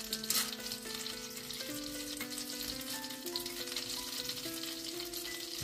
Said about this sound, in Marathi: आता आमचे खडे मसाले बरे बटाटून आणि तेलान सुसुरल्या.